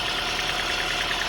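The engine of a 1991 Saturn SL2 idles at operating temperature, a steady, even mechanical hum with a faint rapid ticking texture, close and continuous with no talking.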